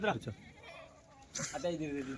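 Kathiyawadi goats at a livestock seller's yard bleat loudly nearby, with several distinct wavering cries in quick succession and short pauses between them.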